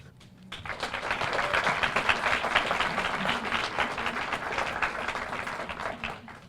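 A graduation ceremony audience breaks into sustained applause, a broad, even roar of many hands clapping that swells quickly and holds steady for several seconds.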